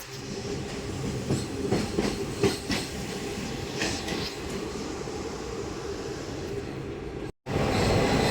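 A passenger train running from Bongaon to New Jalpaiguri rumbles along the tracks with rhythmic clickety-clack, steady and fairly close, recorded near the open door, followed by a brief dropout and a louder rush at the end.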